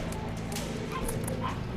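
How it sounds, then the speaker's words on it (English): Dogs bark and yelp in the background of the zombie survival video game Dead Frontier, several quick barks scattered over a constant noisy game soundscape. "we got dogs barking in the background"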